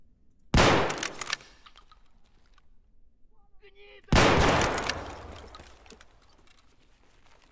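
Gunfire in the video game Escape From Tarkov: two loud, close shots a few seconds apart, each followed by a long echoing tail, with quiet talk and small handling noises between them.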